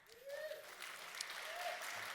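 Audience applause at a Mac admins conference talk, a continuous wash of clapping from a room of listeners, fairly faint and steady, with a voice speaking briefly over it.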